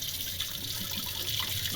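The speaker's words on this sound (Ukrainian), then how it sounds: "Зливаємо, поки е, вода не буде прозора." Running water splashes continuously from a tap into a container of rice being rinsed, a close, steady watery rush with no talking.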